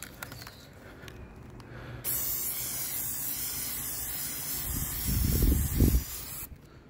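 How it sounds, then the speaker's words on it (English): Short bursts of hissing spray as an aerosol is applied lightly outdoors around the edges of an object, a steady hiss that swells and fades with wind noise in the background. "This one I'm just going to spray on lightly"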